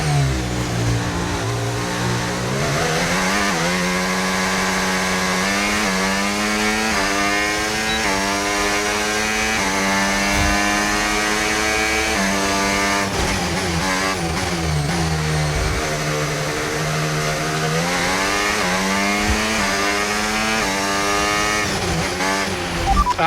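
Formula 1 race car engine in a video game, a loud continuous high-revving whine that climbs and drops through gear changes over a full lap, with no talk.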